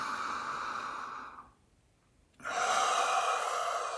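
A slow, deep breath taken during a guided fire meditation: a long airy inhale, a brief near-silent pause, then a fuller breathy exhale, close and alone.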